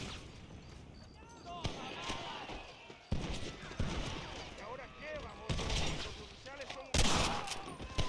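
Gunfire in the Red Dead Redemption video game: repeated loud shots and bursts at irregular intervals amid a chaotic scene, with a player talking over it.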